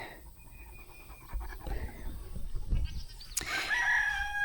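A chicken on an open porch gives a short raspy call that rises near the end, close by over low background rustling.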